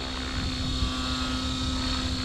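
An RC model helicopter flies with a steady, even whine and rotor hum, a constant tone held throughout without breaks.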